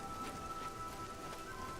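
Steady rainfall in The Elder Scrolls IV: Oblivion, a soft, even hiss of drops on surfaces that carries on unbroken and fairly faint, with no voices over it.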